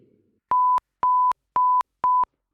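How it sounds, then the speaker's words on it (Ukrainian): Censor button on a Maonocaster AM100 podcast mixer sounds four identical steady electronic bleeps, each about a quarter second, evenly spaced and loud against silence. "І кнопочка для матюків, і не тільки."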